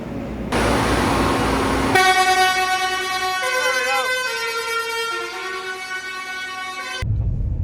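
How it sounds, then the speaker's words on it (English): Loud air horns blast in sustained harmonic tones, one long blare followed by overlapping wavering honks, close and piercing, with noisy air hiss around them. "Air horns on."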